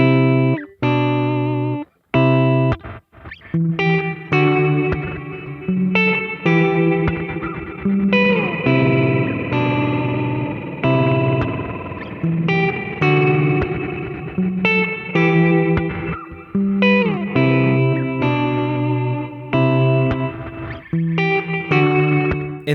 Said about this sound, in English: This results in a sort of stuttery sounding reverb.